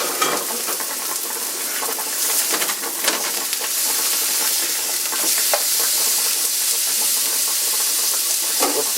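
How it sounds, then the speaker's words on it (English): Rice boils in a pot on a home stove while loco moco is cooked, a close, continuous bubbling hiss with small crackles that stays steady throughout. "As you can see, the rice is boiling away nicely."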